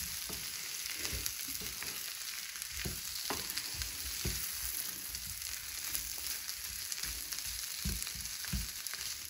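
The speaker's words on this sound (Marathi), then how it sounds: "मसाल्यामध्ये परतून घ्यायचे, जेणेकरून जो आपला मसाला आहे तो सर्व आलूला चिटकून आला पाहिजे" Potato pieces fry in masala in a hot pan with a constant sizzle, while a spoon stirs and scrapes them in irregular soft knocks close by, with no talking.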